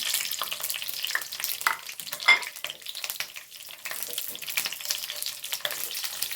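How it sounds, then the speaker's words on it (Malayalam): Green chillies sizzle and fry in hot coconut oil in a pan, a steady crackling hiss with occasional louder pops and stirring scrapes throughout, no voices. "ഞാനൊരു പാൻ വെച്ചിരുന്ന് വെളിച്ചെണ്ണയാണ് ഒഴിച്ചു കൊടുത്ത് വെളിച്ചെണ്ണ ചൂടാക്കിന്ന് ഞാൻ മുളക് ഇതിലേക്ക് ഇട്ട് കൊടുക്കാനേ"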